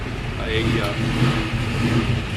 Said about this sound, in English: you can probably hear all the exhaust in the background